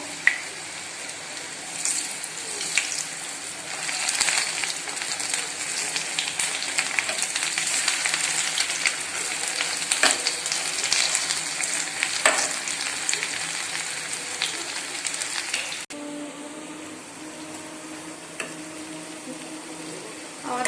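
Chicken bread rolls frying in oil over medium heat, a continuous close hiss and sizzle with occasional pops, quieter toward the end, with faint speech in the background.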